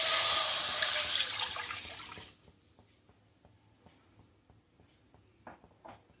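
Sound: pouring four tumblers of water into a hot pan

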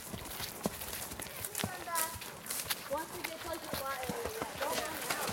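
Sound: horse hooves clip-clopping

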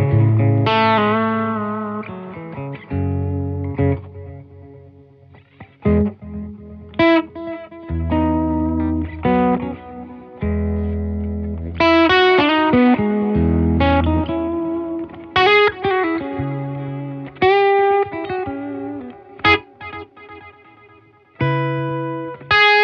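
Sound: guitar through Keeley Halo delay pedal

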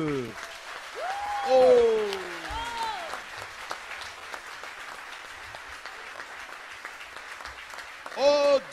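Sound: applause of a church congregation

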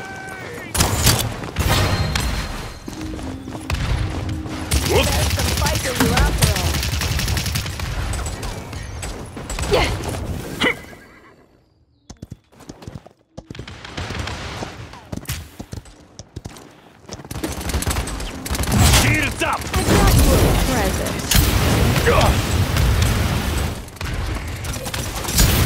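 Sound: gunfire in the video game Paladins

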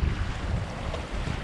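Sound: wind at sea on a sailboat

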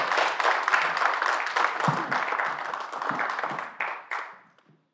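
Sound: applause

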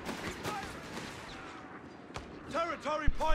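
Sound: rifle gunfire from video game Company of Heroes 3

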